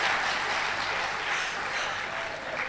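Audience applause breaking out at a comic poet's joke during a Hindi poetry recital, a steady wash of many hands clapping at moderate volume that carries through the whole moment.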